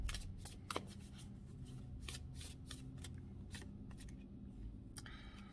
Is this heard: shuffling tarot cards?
yes